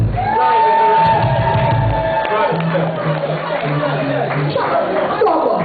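A lively crowd cheers, whoops and shouts loudly for a performer called to the stage, with voices and chatter layered over the noise and some tonal sounds running underneath.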